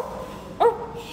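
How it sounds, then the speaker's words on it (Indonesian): A single short dog bark rings out sharply near the middle, over a quiet indoor background. "Ada guguk."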